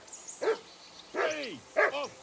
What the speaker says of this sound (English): assume you can hear that dog of yours barking